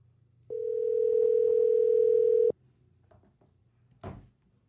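A telephone dial tone sounds while a call is being placed: one steady, loud, continuous tone lasting about two seconds, followed by a few soft clicks and a short thud.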